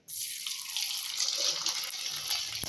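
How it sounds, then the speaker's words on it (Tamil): Homemade rice vathal (kanji or koozh vadam) crackles as it fries in hot oil, giving a steady, bright, close-up sizzle with no voices. "பாருங்கள் நான் இந்த அளவுக்கு பொரியுது"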